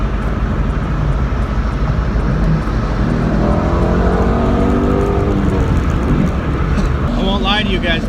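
A 2017 Ford Mustang GT350 with a flat-plane crank V8 drops into third gear and pulls hard with the window down, its engine note climbing in a loud rising rev over steady road and wind roar, ending with a sharp higher-pitched wail.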